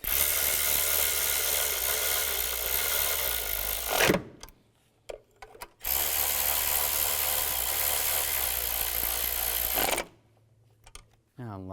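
A power tool tightens bolts on the intake of a GMC Acadia, whirring loudly and steadily for a few seconds, stopping with short clicks and handling noise, then running again in a second sustained burst.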